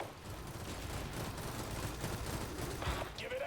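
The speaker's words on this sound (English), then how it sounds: "All I hear is gunfire" Dense, continuous gunfire crackles through a busy Roblox game soundscape, with a brief rising electronic tone near the end.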